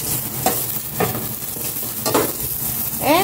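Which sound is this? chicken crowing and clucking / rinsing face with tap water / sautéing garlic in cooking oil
sautéing garlic in cooking oil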